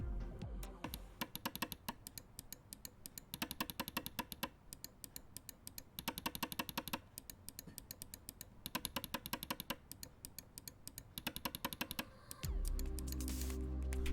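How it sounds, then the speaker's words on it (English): Buttons of an ASUS ROG Gladius mouse with Omron switches clicked in rapid bursts, sharp crisp clicks in quick runs separated by brief pauses, close and quiet, followed by a low hum at the end. "Here's a test on how all of the buttons sound."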